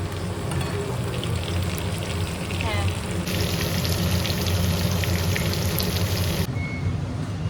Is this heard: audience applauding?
no